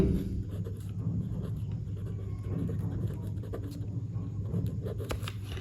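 A pen writes an amount on an Allied Bank deposit slip, with close, soft scratching strokes on paper continuing steadily over quiet room noise.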